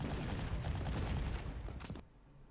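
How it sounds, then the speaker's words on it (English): Sustained rattling machine gun fire from a heavy weapons squad in the Panzer Corps war game, a dense run of rapid bursts that cuts off abruptly, leaving a faint low tail. "we'll hit with this heavy weapons squad second with the machine gun"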